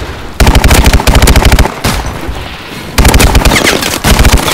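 Automatic gunfire in the video game Call of Duty: Advanced Warfare, Exo Survival mode, loud rapid bursts in two long runs separated by a brief lull, with booming low-end thumps throughout.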